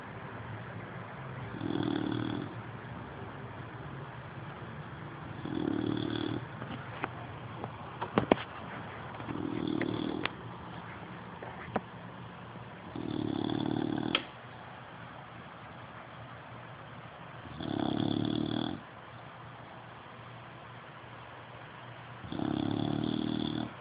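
A sleeping dog snores in slow, regular breaths, about six distinct rasping snores spaced roughly four seconds apart, close and fairly soft in a quiet room.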